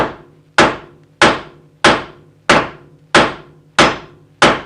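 Heavy hammer blows strike a BMW E46 front lower control arm in a slow, even rhythm, eight sharp ringing metal impacts each decaying quickly, loud and close.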